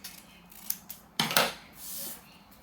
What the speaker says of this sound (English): if you get some extra, you could cut it off